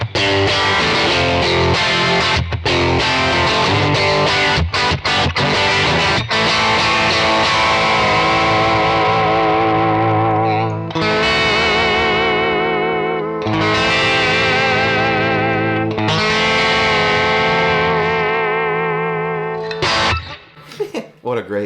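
A distorted electric guitar plays through a profile of a 1957 Fender Bandmaster amp, loud and up close. Choppy strummed chords come first, then long sustained notes with vibrato, and the sound cuts off abruptly at the end.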